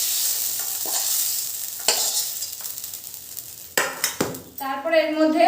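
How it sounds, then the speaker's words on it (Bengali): Fried potatoes are lifted from hot mustard oil with a metal utensil, giving a steady sizzle with scraping stirs and a few sharp clinks against the pan. "এবার আলুগুলো তুলে নিচ্ছি"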